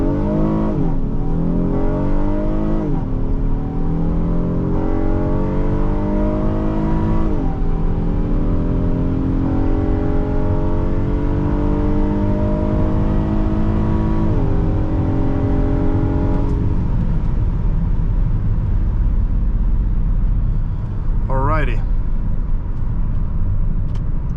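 A 2020 Honda Odyssey Elite minivan accelerates hard from a standstill during an acceleration test. The engine climbs through several rising pitch sweeps with gear changes, then settles into steady road and wind roar, close and loud, with no talking.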